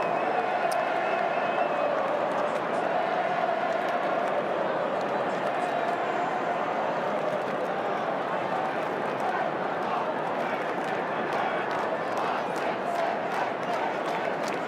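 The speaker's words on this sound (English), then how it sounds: "Terrific crowd, boisterous crowd." A boisterous football crowd at a night AFL match, Collingwood against Richmond, roars steadily and densely throughout, a loud continuous wash of cheering and shouting with scattered whistles and claps, no pause or lull.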